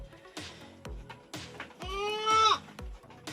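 Two-and-a-half-month-old goat kids bleat, one long wavering cry standing out, over a steady rhythmic thumping in the background, fairly close.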